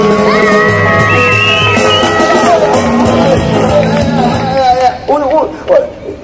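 A lively crowd in Oaxaca's historic zócalo shouts, whoops and cheers, a dense continuous roar of many voices that thins into scattered yells near the end.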